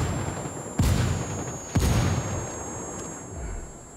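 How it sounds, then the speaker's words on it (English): Incoming mortar fire in Ghost Recon Wildlands: two sharp, heavy impacts about a second apart, each followed by a rumbling decay, then a softer distant thud, over a steady ambient hum. "He's got the mortar drawn up. Incoming mortar."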